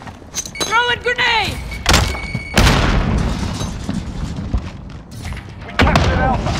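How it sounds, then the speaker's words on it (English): Grenade thrown and exploding during Call of Duty Modern Warfare multiplayer Domination, with metallic clinks and a whine, then heavy booming blasts and rumbling thuds, loud amid game noise and radio-style voices. "Throwing grenade!"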